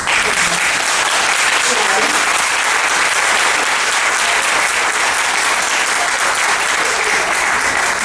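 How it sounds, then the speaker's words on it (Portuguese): Loud, dense applause from a conference audience thanking the guest speakers runs steadily and unbroken for several seconds, with no pause in the clapping. "Uma salva de palmas"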